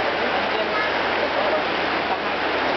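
A river in Los Altos de Sucre, Venezuela, heard as a loud, steady, close rush of flowing water like a waterfall, constant throughout the clip.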